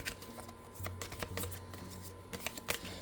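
Oracle cards from a crafter's oracle deck riffle and slap together in quick bursts of shuffling, close and crisp, with brief pauses between flurries and no talking.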